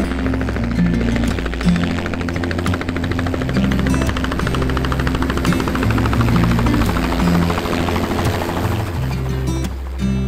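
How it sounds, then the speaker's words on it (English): A helicopter flies over mountain wilderness in Sweden, its steady, loud rotor thrum and engine whine continuous throughout with little change in distance. "That was the first helicopter, now we get the second one too."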